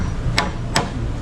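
Hammer strikes on a wooden post for a hut, three sharp separate blows spaced evenly about every 0.4 seconds over steady background noise.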